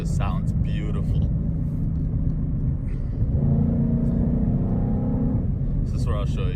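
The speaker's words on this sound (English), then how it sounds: "That V8 just sounds beautiful." A 2017 Ford Mustang GT's V8 engine rumbles deep and steady while driving, its tone rising and swelling midway before settling back, with voices heard over the engine.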